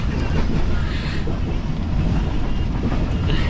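A sleeper train in Pakistan rolls along with a steady, loud rumble and continuous rattling from the carriage, heard close from inside with some wind-like hiss throughout.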